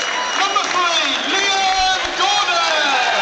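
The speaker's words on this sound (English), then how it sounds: "Liam Gordon gets the applause of the fans" Football crowd applauding and cheering at a Walsall v Bolton Wanderers League One match, a dense, steady wash of clapping and voices filling the stadium, with commentary over it.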